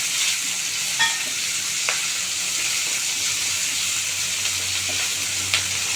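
A medium onion fries in a pan for a Kerala-style fish molly, giving a loud, even, hissing sizzle close up with a few faint clicks of stirring and no speech.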